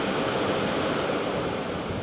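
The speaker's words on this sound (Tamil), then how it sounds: "தண்ணி எப்படி ஓடுது பாருங்க கீழே." A monsoon-swollen river in Sri Lanka rushes below, a steady broadband roar of fast-flowing water that stays loud and unbroken, with no talk.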